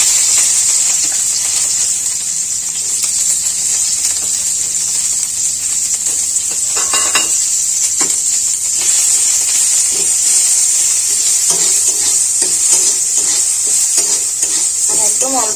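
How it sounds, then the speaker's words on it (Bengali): Leafy greens fry in a small amount of oil in a home kitchen, giving a steady, loud sizzle and hiss throughout, broken by occasional scrapes and stirs of a utensil against the pan, with no voices. "একদম অল্প একটু শাক ভাজবো"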